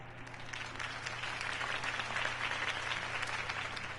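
Applause from a crowd fills the room after a campaign speech for Harvey Dent, a steady dense clapping that holds at an even level throughout with a low hum beneath.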